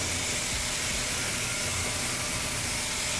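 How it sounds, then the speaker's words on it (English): A continuous hissing spray of water onto a car tire, loud and close, with a steady rushing texture and no pauses. "I'm going to grab my water here. And we are going to spray this off."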